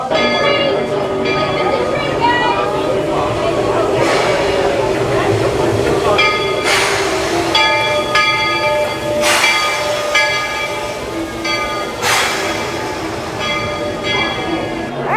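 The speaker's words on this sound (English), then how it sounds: "Let's get on the train." The Magic Kingdom train at Walt Disney World rumbles steadily and loudly, with ringing bell-like tones repeating over the ongoing mechanical noise and some voices in the background.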